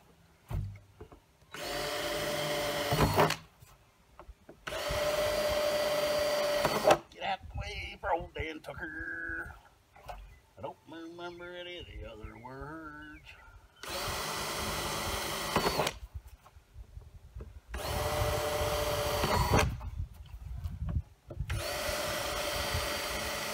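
A power drill boring a hole during outdoor spring container gardening, heard in several loud, sustained bursts of whirring that alternate with singing voices.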